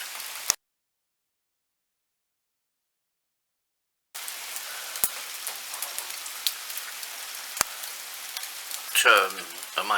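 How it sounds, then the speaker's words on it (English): Heavy rain after a long drought, a dense hiss of drops on surfaces that begins abruptly following a stretch of silence, with occasional sharper taps and a louder burst near the end. "Meaningful rain"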